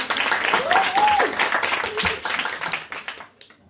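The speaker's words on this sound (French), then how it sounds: "Un tonnerre d'applaudissements encore" Audience applause at a literary conference, a short burst of clapping from a modest crowd with some voices mixed in, tapering off into quiet after about three seconds.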